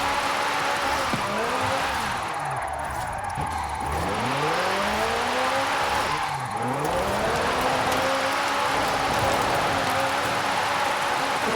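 McLaren 720S coupe from 2018, tuned to 1002 hp with all-wheel drive, drifting in a racing video game: a steady engine drone with repeated swooping pitch rises and falls as it revs, held loud and continuous with no talk.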